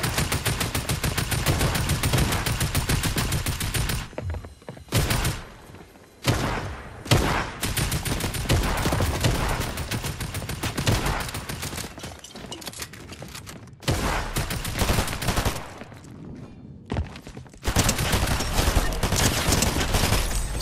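Rapid automatic gunfire in the video game Fortnite, loud dense bursts broken by brief pauses, with sustained volleys continuing to the end.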